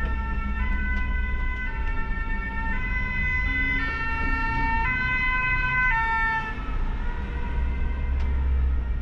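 A Paris fire brigade engine's two-tone siren wails loudly and steadily as it approaches, over a low rumble of road traffic.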